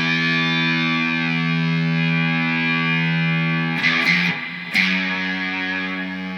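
An electric guitar with effects and a fairly clean tone sustains an open low E for a song intro. The note rings steadily and alone, then breaks into a couple of brief scratchy changes before ringing on.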